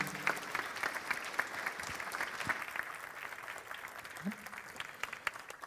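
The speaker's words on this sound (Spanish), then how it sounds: "Un aplauso para él" Applause from an audience at a science talk on the James Webb telescope welcoming the speaker, fairly faint scattered clapping with sharp individual claps, and a voice briefly under it.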